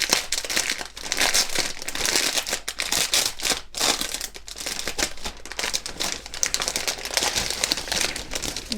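Resealable plastic bag of parts for an ICM 1/72 OV-10D Bronco model kit handled up close, giving a steady, busy crinkling and rustling that runs throughout without a pause.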